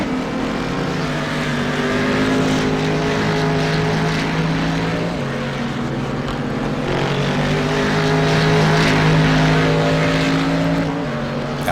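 A Cadillac race car engine drones loudly on track, its steady high-revving note shifting pitch as it shifts gears and holds speed, with other race cars blending into the roar.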